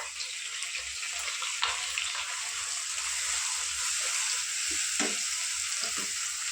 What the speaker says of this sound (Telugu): ఉల్లిపాయ కొంచెం లైట్గా ఫ్రై అయిన తర్వాత